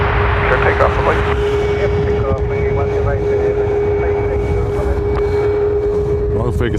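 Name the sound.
Ryanair aircraft taking off to Malaga, runway 10 right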